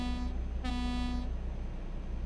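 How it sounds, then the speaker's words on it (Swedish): A truck horn in Euro Truck Simulator 2 gives a single, steady, fairly loud toot of about a second, with a constant engine drone underneath. "Så måste jag in med en bättre tuta också."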